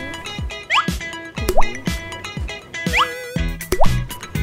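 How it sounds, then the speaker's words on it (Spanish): Gummy candies dropping one after another into glasses of water, giving several short, close plopping splashes spaced about a second apart, alone with no talk and with brief musical tones between. "Colocamos las gomitas en los vasos con agua."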